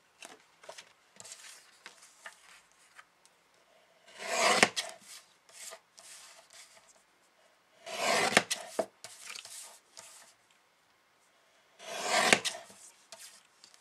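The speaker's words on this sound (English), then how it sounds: "Next, I'm going to trim around my image." Paper being trimmed with scissors around a stamped image on a handmade card, heard as three loud bursts of cutting spaced several seconds apart with softer snipping and rustling in between, close and without talk.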